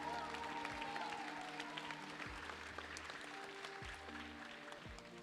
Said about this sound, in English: Let's hear a big round of applause for all our teachers out here.